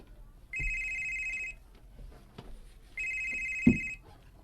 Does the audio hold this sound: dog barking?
no